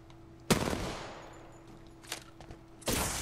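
Automatic gunfire in the video game Apex Legends comes as a sharp, loud burst that trails off, then a brief pop and a second burst near the end.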